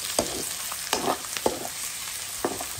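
Shrimp and leafy greens fry in a pan, a steady sizzle broken by several clattering stirs and scrapes of a utensil at close range.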